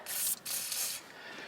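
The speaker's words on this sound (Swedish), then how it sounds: "Sprayar vi på lite rostlösning på den här" Rust penetrant sprayed from an aerosol can onto a bolt near a car's fuse box during an ABS pump motor repair, heard as two close, short hissing bursts with a brief gap, then fading.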